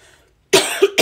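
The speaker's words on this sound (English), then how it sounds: "I've still got that cough" After a moment of silence, someone coughs sharply two or three times, close and loud.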